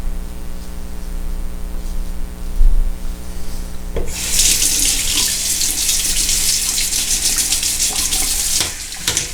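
A faucet gushes loudly into a sink as a Feather Japanese razor is rinsed of shaved beard hair, starting abruptly after a low hum and running steadily for about five seconds before cutting off.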